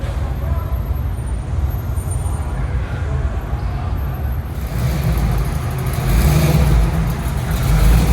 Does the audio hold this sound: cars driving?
yes